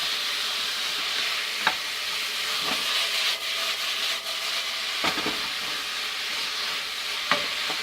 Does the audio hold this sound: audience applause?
no